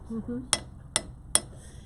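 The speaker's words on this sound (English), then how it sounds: "But I can hit my wire, and I'm pushing the metal away." A chasing hammer strikes metal wire three times at an even pace, each blow a sharp, bright metallic tap, close and clear, following a brief murmur of voice.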